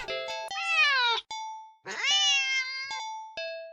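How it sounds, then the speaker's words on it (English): A cat meows in two long, loud, drawn-out wails, close by, with sharp clanging clicks between them. "It is like a 5-pound cat."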